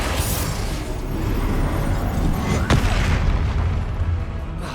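Confringo spell explosions in the Hogwarts Legacy video game make a loud, continuous rumbling roar of blasts, with one sharp crack standing out midway.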